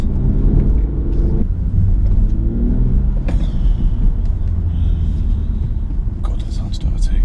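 A BMW M240i Coupé's engine and exhaust rumble deep and loud from inside the car as it drives a bumpy village road, with a brief rise in revs, while someone talks over it.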